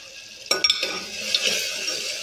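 About ten to twelve garlic cloves drop into a hot pan for urad dal rice khichadi, starting with a sharp clatter of spoon on metal, then a steady, bright sizzle with light scraping as they are tossed.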